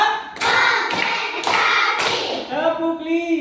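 Four sharp, evenly spaced hand claps from a counting clap game in a school lesson ring out loud and close, followed by a voice speaking briefly at the end.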